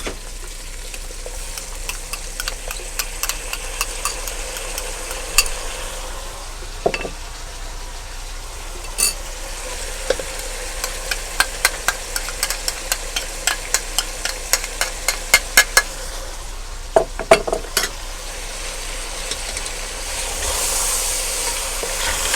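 Mutton pieces sizzle in a pan after ground onion is added, with a steady frying hiss broken by repeated sharp clicks and scrapes of a spoon stirring through the mixture, close and fairly loud.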